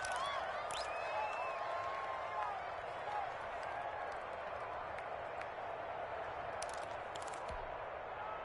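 A football stadium crowd roars steadily throughout, a dense, continuous wash of cheering and noise with scattered whistles and shouts rising above it.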